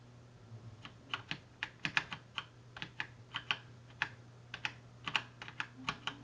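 Computer keyboard keys tapped at an irregular, fairly quick pace with about twenty crisp clicks close by, over a faint steady hum of a room or computer.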